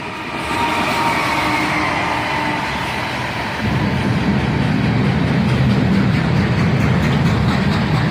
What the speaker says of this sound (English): Later that week, we caught this train, led by Canadian Nationals